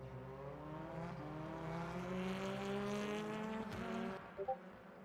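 Touring cars roar past at a distance at Thruxton circuit, engines droning and shifting pitch steadily, with a couple of faint knocks near the end.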